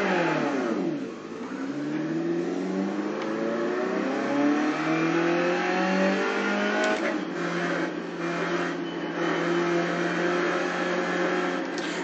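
A car engine revs and accelerates through gear changes on a lap around a track with straights, rising and falling pitch sweeping repeatedly, loud and close throughout with no talking.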